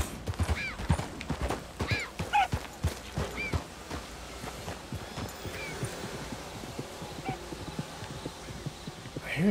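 A horse in Red Dead Redemption 2 clip-clops along with quick hoofbeats and several high whinnies, near and lively at first, then fading into softer steps.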